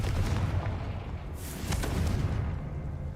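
A Confringo spell blast in the video game Hogwarts Legacy gives a loud, deep, rumbling burst with a crackling whoosh at its peak, sustained for a few seconds with no talking.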